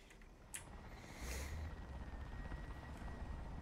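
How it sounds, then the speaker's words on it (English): Helicopter rotor noise from a tank video game plays as a steady, low whirring drone throughout, with a brief sharp transient near the start. "Our helicopter is not doing a damn thing."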